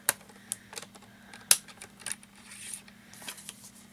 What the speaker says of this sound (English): I'm going to use my scoring blade. So I'm just going to score.